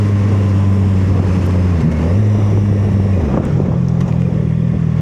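A CFMoto 675SS motorcycle rides through city streets, its engine note droning and shifting pitch as the revs drop and climb, with wind noise throughout.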